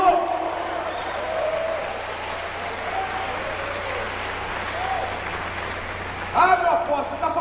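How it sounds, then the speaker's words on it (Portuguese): A church congregation at a Portuguese-language service gives steady applause, moderately loud clapping with a faint hum beneath, rising briefly near the end as a voice cuts in. "Dê uma salva de palmas ao Senhor."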